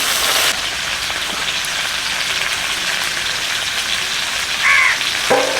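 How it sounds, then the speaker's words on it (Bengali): Steady rain patters continuously on a surface, a dense even hiss with a few distinct drips near the end. "কালকের মতো আবার বৃষ্টি হচ্ছে"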